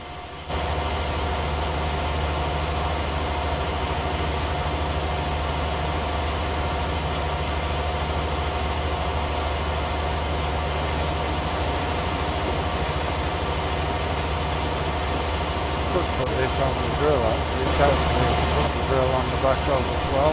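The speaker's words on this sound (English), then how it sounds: "It's not the most modern of tractors" Old tractor engine idling in Farming Simulator 19, a steady low mechanical hum with a constant drone that holds evenly throughout, slightly busier near the end.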